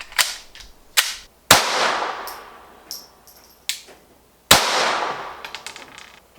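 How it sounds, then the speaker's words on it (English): A Glock 17 fitted with an Advantage Arms .22 conversion kit fires sharp, loud shots, a few crisp reports spaced apart outdoors with brief ringing decay after each, no talking. "A 22 out of a Glock 17. Let's try two shots."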